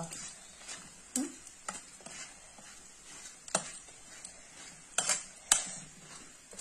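Food frying in a pan and foaming up as it bubbles, heard as a quiet steady sizzle broken by several sharp clicks and taps of a utensil against the pan.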